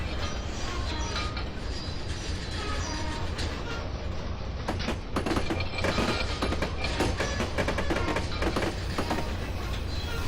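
A Baldwin Centipede locomotive rolling in Train Simulator 2016 on Horseshoe Curve, a continuous heavy rumble with rhythmic clanks and clinks of rail joints, with occasional speech over it.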